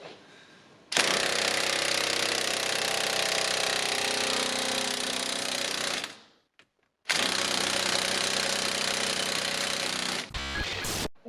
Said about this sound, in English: I'm gonna go and borrow James's big ugga dugga